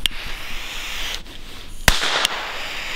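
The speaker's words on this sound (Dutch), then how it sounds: "Zijn het rotjes. Ja, maar dingen die knallen best hoor." Firecrackers (rotjes) going off outdoors during New Year's fireworks, with a steady hiss of distant bangs and two sharp, loud nearby cracks close together near the end.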